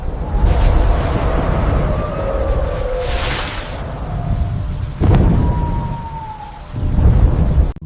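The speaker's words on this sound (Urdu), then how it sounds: "بادل گرج رہے تھے" Thunder rumbles in a dramatic flood scene, heavy low booms and rolling cracks arriving in several bursts, with swelling musical or sound-effect tones layered over them and no speech.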